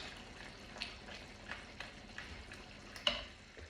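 Pimento, oxtail seasoning, paprika and tomato puree being stirred in a pan, a faint scraping and soft sizzle with a few light clinks and one sharper tap, alone and quiet.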